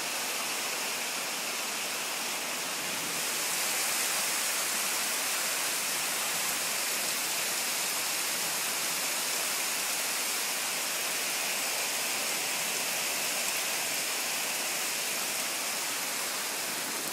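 Heavy rain pours down in a dense, unbroken hiss that swells slightly after the first few seconds and holds steady, with no voices.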